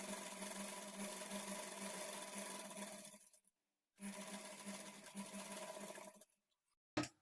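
A sewing machine stitches a blouse at a quarter-inch margin, running in two steady whirring bursts separated by a short pause, close and alone, followed by a brief final click.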